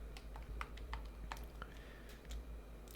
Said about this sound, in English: I'll type in a password.